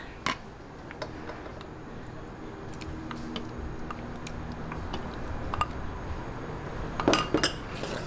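A spoon stirs ginataang monggo with coconut cream and jackfruit in a pot, giving soft scattered clinks and taps against the metal over a low bubbling background, with a cluster of brighter clinks near the end.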